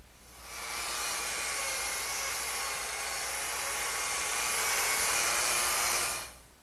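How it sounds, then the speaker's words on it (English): Steady broadband whir of a power sander working over glued-up wooden tabletop boards after excess glue is scraped off, starting abruptly, holding a constant loud hiss for about five seconds, then stopping, with no talking. "the first thing that I'm going to do is scrape off this excess glue and sand"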